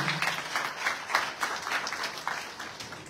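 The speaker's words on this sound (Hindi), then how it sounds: "एक बार दोनों ब्रदर्स के लिए 2000 तालियां हो जाए" An audience at a college yoga day event gives a brief, steady round of clapping that stays moderately loud and even throughout.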